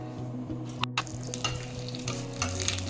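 Dried red chillies and a pinch of asafoetida sizzle in hot tempering oil, a steady crackling hiss broken by a few sharp stirring clinks and scrapes, close up with no voice.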